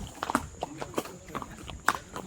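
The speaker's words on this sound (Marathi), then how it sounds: "रिअल लाईफ घोडा. पबजीचे न्यू अपडेट. 2 घोडे." Irregular horse hoof clops ring out on a hard surface in Matheran, a few close, uneven steps with quieter background noise between them.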